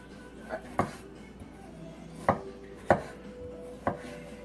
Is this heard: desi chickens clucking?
no